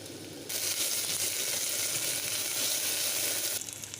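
Ginger garlic paste hits a hot pan of cooked onions for egg pulav, bursting into a loud, close, steady hiss of frying that holds for about three seconds, then drops away.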